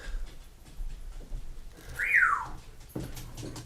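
A single bright whistle from a pet bird sweeps up and then slides down, loud and close, over quiet room noise.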